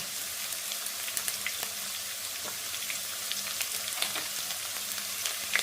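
Green chillies sizzle steadily in hot oil as they are sautéed, giving a close, even crackle with scattered pops throughout and no voices.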